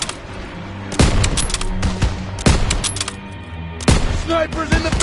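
Gunfire in the Call of Duty WW2 campaign: several loud, dense bursts of rapid shots in clusters, with brief gaps between volleys and battle noise underneath.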